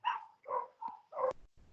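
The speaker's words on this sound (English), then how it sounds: "He hears all the dogs, that's why." A dog gives four short, close barks in quick succession, each a slightly hoarse yelp, with a brief quiet tail and no talk.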